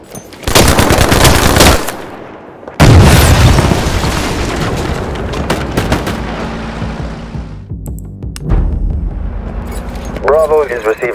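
Heavy bursts of automatic gunfire and booming explosions in the video game Battlefield Mobile, loud and close, with dense rattling salvos, brief pauses, and a radio-style voice talking under the battle.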